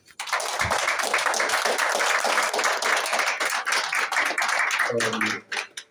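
Dense audience applause fills a fellowship gathering hall, many hands clapping steadily and loudly for several seconds before fading out, with a brief voice at the end.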